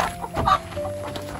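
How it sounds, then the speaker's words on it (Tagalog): A chicken clucks in a few short, close bursts outdoors near a home where a solar panel is being set up, with a steady low background hum throughout. "May manok."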